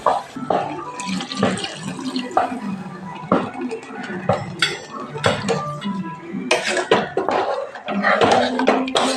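Water poured into a pot while biryani cooks with chili powder and turmeric, the splashing running under busy clattering of pots, utensils and cutlery in a home kitchen, close and fairly loud.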